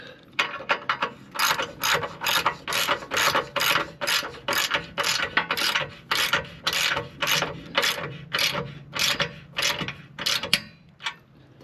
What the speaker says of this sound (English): We're going to take our wrench and snug it up good.